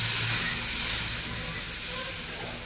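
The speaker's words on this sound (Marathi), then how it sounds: "या स्टेजला तुम्ही आता याच्यामध्ये पाणी टाकायचं मॅगी शिजण्यासाठी." Water poured into a hot pan of masala Maggi with spices, a strong steady hiss and sizzle of steam that stays loud and slowly fades over a couple of seconds.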